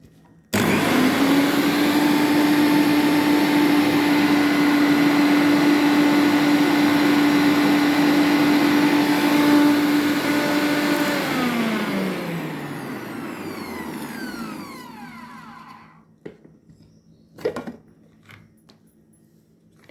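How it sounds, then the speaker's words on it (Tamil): Mixer grinder blending soaked ingredients with milk for payasam, a loud steady motor whine for about eleven seconds before it winds down and stops, followed by a few faint clatters of the jar. "ஊற வச்சதெல்லாம் ஒன்று ஒன்றா மிக்சி ஜாருக்கு மாற்றி அரைச்சிக்கலாம்"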